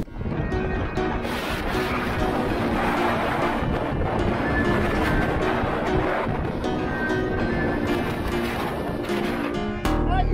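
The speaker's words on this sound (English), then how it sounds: "we have too much fucking wind" Strong storm wind at sea off Table Mountain in the South Atlantic, a loud, steady roaring buffet against the microphone aboard a sailing boat, continuous for the whole stretch with a brief rise near the end.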